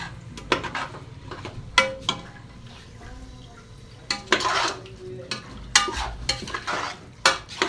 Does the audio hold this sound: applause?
no